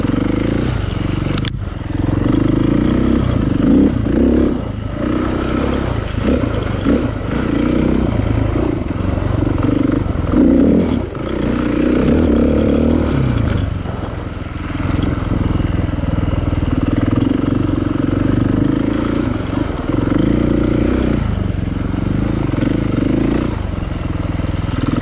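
A dirt bike rides a single-track trail at Durhamtown Plantation, its engine droning loudly and close for the whole stretch, revving and easing with the terrain amid occasional clatter and scraping.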